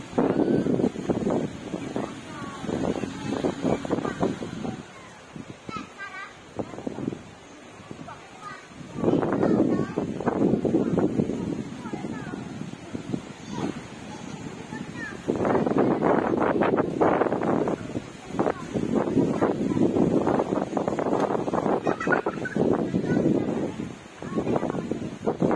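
Strong gusts of wind batter a stand of teak trees, with loud, continuous wind roar and microphone buffeting that rise and fall in surges; people talk throughout.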